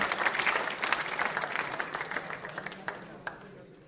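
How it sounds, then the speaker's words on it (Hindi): An audience at a school quiz show in Mahaveer Public School claps loudly, a thick burst of applause that thins into scattered claps and fades out near the end. "तालियां जोरों से बजाइए ऐसी चीजों के लिए भी।"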